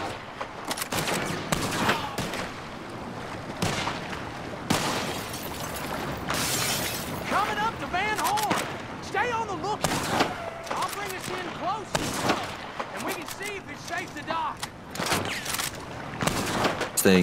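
Bolt-action rifle fitted with a medium scope firing in Red Dead Redemption 2 online, loud sharp shots and bursts of gunfire with shattering crashes, mixed with voices talking over the action.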